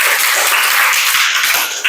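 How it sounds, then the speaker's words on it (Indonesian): Dense, steady applause from a classroom group, a continuous wash of overlapping hand claps holding at an even, fairly loud level for the whole stretch with no voices. "Ya, tepuk tangan dulu"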